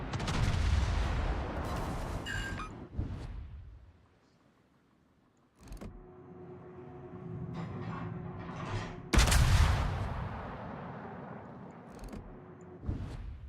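Naval guns on warships firing in World of Warships, a heavy booming salvo at the start, a brief lull, then a second loud broadside around the middle with rumbling battle ambience and a few sharp cracks between.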